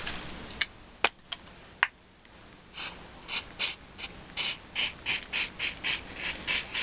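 Short bursts of spray-can undercoat hitting a faux leather album binding, starting as scattered hisses then settling into a steady rhythm of about a dozen quick, close, hissing puffs with no talk.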